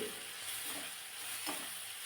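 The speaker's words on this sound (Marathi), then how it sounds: "फोडणीमध्ये आपण जिरे न वापरता इथे मी एक चमचाभर जिरेपूड घालते" Cumin powder sizzles in hot tempering oil for a Marathi dhaba-style vegetable dish, a steady close hiss of frying with faint stirring scrapes and no talk.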